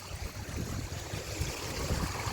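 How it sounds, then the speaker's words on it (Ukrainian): A small stream flowing steadily toward the sea at Lukova Beach, Albania, a continuous soft rushing and trickling with no voices. "Раптово трапився такий струмок."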